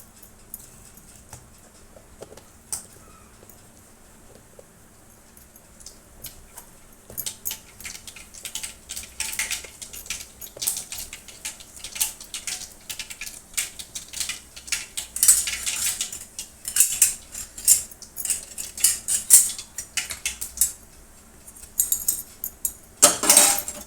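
Mustard and cumin seeds splutter in hot oil, a faint scatter of ticks building into dense, irregular crackling and popping that grows louder and busier toward the end.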